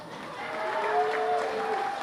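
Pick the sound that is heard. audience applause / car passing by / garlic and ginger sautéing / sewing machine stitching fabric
audience applause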